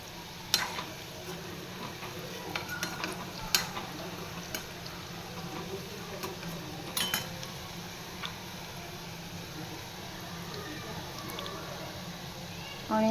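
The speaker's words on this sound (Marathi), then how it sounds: "पूर्ण भज्या आतपर्यंत छान अशा फ्राय झाल्या पाहिजे." Onion and potato bhaji fry in oil on medium heat, giving a continuous soft sizzle with scattered ticks and clicks from the pan; a voice is heard briefly near the end.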